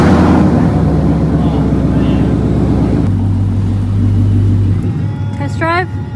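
A Ford Mustang with a new exhaust rumbles loudly and close. Partway through, the engine note drops into a deeper, steady idle drone. Voices talk over it.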